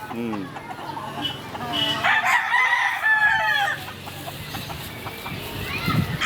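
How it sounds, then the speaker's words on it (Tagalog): Young gamecock stag roosters crow on a farm, one long cock-a-doodle-doo close by with others clucking and calling around it, while people talk over the birds. "Ito yung mga stag natin to."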